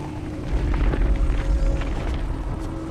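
A deep, continuous earthquake rumble as a fault splits open in a disaster film, with heavy low-end roar swelling after the first half second and holding steady and loud throughout.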